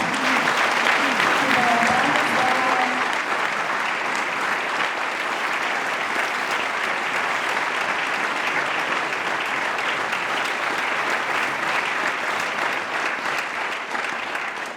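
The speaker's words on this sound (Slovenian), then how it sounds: "Prosim en velik aplavz za novega dirigenta." Big, sustained applause from a concert audience at a New Year's concert by the Velenje Coal Mine wind orchestra, a thick even roar of clapping lasting the whole stretch, with a voice briefly audible early on.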